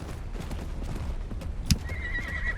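In the ARK: Survival Ascended game, a horse gives a faint whinny over soft, continuous clip-clopping hooves, with a brief thud in the middle.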